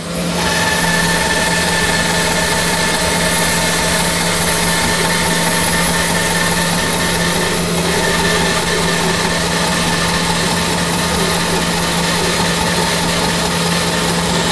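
A bandsaw slicing boards from a log runs as a loud, steady mechanical drone with a constant hum, unbroken for the whole stretch, close and with no talk.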